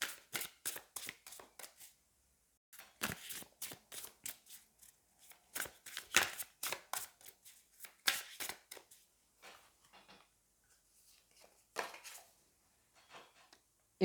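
Tarot cards are shuffled and drawn by hand, a long series of crisp, close riffling flicks and slaps in irregular bursts with short pauses between them.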